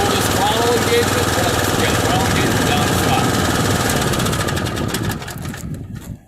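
Lawn mower engine running loud and close with a steady droning rumble, then dropping in level near the end as the throttle is pulled back; someone talks over it.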